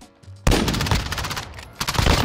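Loud gunfire in an online first-person shooter, a sharp onset followed by rapid overlapping shots and a second burst near the end.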